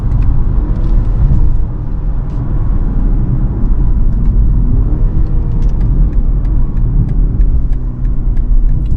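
A 2024 BMW 330i sedan engine climbs through the gears under acceleration, a loud, continuous low rumble with road noise that dips briefly between shifts, close and with no one talking.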